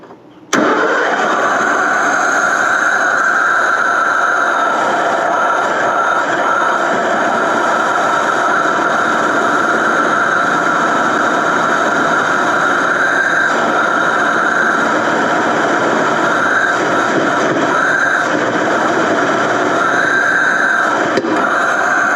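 An old Ford engine that has sat unused for years cranks briefly, fires up and settles into a loud, steady idle close by, running on uninterrupted without any talking.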